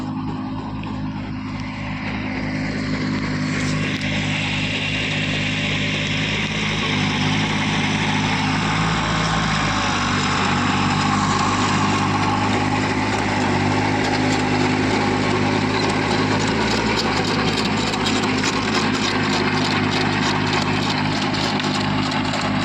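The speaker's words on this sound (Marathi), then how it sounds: "एकदम बारीक ट्रॅक्टर आहे, बारीकच रोटर आहे" A small tractor pulling a small rotavator through tall grass in a field drones continuously and loudly for the whole stretch, with a steady engine hum and a rougher working roar.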